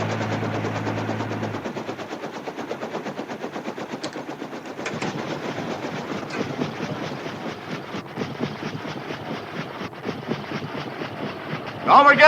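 A passing train, heard as a steady, fast clickety-clack of wheels on rail joints that runs for the whole stretch, loud and close, with a brief low horn-like tone at the start and a louder burst at the very end.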